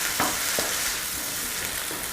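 Garlic and a whole tomato with its pulp sizzle and fry steadily in a pan for shrimp etouffee, a continuous close crackle with a few soft stirring scrapes near the start.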